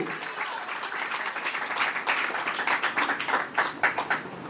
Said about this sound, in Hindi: उस यस्सु राजा के लिए जोर से तालियां होनी चाहिए